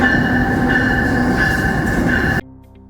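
Amtrak passenger train on the route from Las Vegas to Chicago, a loud close rumble of rolling cars with a steady high squeal from the wheels that cuts off abruptly near the end.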